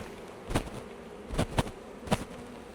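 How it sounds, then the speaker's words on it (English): A swarm of honey bees buzzes steadily up close, broken by four sharp knocks as a hive frame is jolted to shake the bees off into a nuc box. "I'm going to shake all of the bees off to go into this nuke here."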